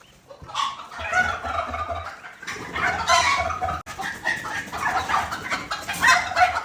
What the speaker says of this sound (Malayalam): ഇത് ബ്ലൂ ടർക്കിയുടെ കുഞ്ഞുങ്ങളാ.